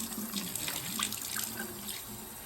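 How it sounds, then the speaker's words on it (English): Rusty water from distressed metal tins rinses down a sink drain, a soft continuous trickle and splash of running tap water, close and fairly quiet. "let this rusty water go down the drain"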